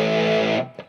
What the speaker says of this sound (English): now I'm going to click the overdrive switch to the up position